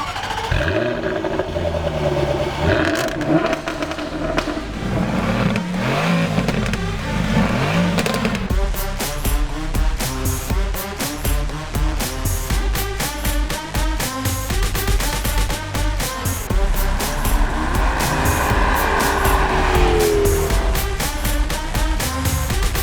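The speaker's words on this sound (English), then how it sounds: "What sounds better, the Mercedes AMG GTS or this Jaguar F-Type R Coupe?" A Jaguar F-Type R Coupe engine revs hard and repeatedly, loud and close, with sharp bursts and pops between the roaring climbs.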